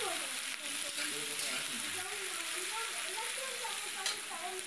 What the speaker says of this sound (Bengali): পেঁয়াজটা বেশ একটু লাল লাল করে ভেজে নেব।